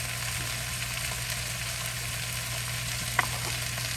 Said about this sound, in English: I'm going to go ahead and drop my potatoes in. Okay. That pan's hot.